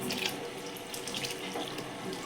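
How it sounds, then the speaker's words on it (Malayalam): Milk pours in a steady, continuous stream into sweet curry in a pot, a smooth splashing rush at close range with no talk. "ഞങ്ങളിതാ ഇനി ആദ്യത്തെ പാല് ഒഴിക്കാൻ പോവുകയാണ്."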